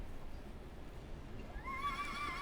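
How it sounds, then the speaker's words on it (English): A horse whinnies in the Western video game Call of Juarez: Gunslinger, a rising neigh that comes in near the end over a low, steady background rumble. "What the hell was that sound? Oh, it was the horse"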